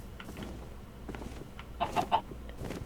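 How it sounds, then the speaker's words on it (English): Chicken clucking in a modded Minecraft game world, a few short clucks rising midway over a busy game background. "There's a chicken right here, and you're not attacking it,"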